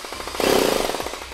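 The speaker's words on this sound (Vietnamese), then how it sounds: "Búa nhẹ. Có đảo chiều luôn anh em. Khoan ra nè." A Bosch hammer drill running in light hammer mode gives a steady, loud, rapid rattling buzz. The pulse speeds up slightly partway through, and the short burst is heard up close with no voices.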